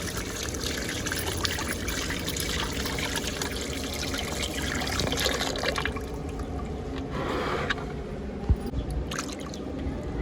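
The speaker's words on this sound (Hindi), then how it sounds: "अब इसके अंदर पानी डाल दे, थोड़ा सा पानी डालेंगे जिससे ये ना हल हो जाए।" A small amount of water is poured into a mix being stirred into a thick paste in a village kitchen, making a steady splashing trickle with some background noise throughout.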